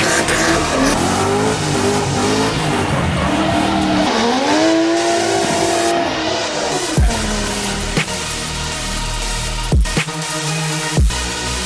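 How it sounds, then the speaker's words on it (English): At a burnout contest in a stadium, a car's engine roars and revs high while its tires squeal loudly and continuously, followed by several sharp bangs or pops near the end. "insane burnout contest."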